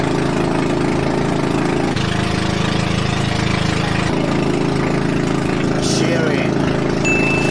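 A boat engine idles with a steady low chug, fairly loud and close, with a few faint higher noises drifting in over the constant rumble.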